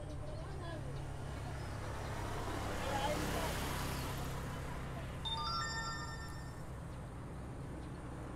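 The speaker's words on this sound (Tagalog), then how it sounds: "Pasensya na kayo, maingay dito sa pwesto natin, daanan kasi ng sasakyan." A vehicle rumbles past nearby, swelling and fading over a steady road noise, with faint high tones coming through afterward.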